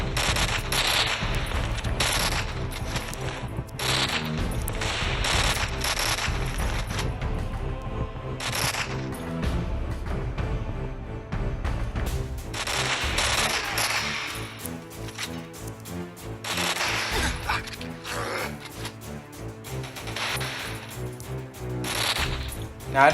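Rapid bursts of MTAR-14 rifle fire in the shooter game Rival Fire, crackling and continuous over a dense game mix, with repeated volleys and short pauses throughout.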